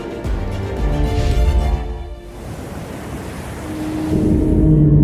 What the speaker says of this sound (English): We listen to the ocean